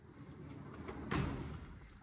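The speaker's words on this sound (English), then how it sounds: "get the barn doors closed up for the night" Wooden barn doors on a goat farm slide shut for the night, a faint rolling rumble that peaks in a single soft thud of the doors meeting, with quiet ambience around it.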